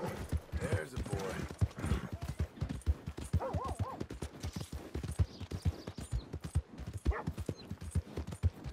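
Rapid, close horse hooves clip-clop in a steady rhythm throughout in Red Dead Redemption 2, with a couple of brief whinnies.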